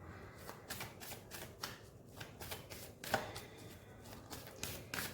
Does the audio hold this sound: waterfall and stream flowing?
no